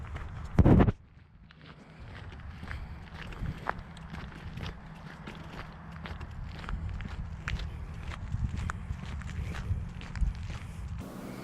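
Steady footsteps walk along at an even pace, each step a soft crunch, following one loud knock at the start, with faint wind behind.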